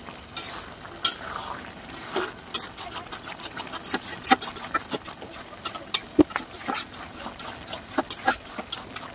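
Litchi pickle being stirred in a pan as it thickens, with a spoon scraping and clacking in an uneven rhythm over a soft low bubbling sizzle.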